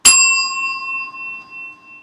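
A single bell struck once on a talk show, ringing out with a bright metallic tone that lingers and slowly fades for about two seconds, heard alone.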